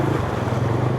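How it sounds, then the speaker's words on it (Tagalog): Waves in brown floodwater slosh and wash steadily, stirred by a passing vehicle on a flooded road in Sto. Tomas, Pampanga, a continuous low watery rumble over one second with no talk. "Yun, ayan na yung alon."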